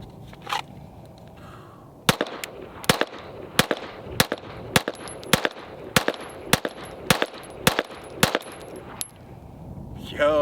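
A CZ pistol fitted with a red dot and weapon light fires ten sharp, evenly spaced shots at a target outdoors, each crack loud and close with brief echo.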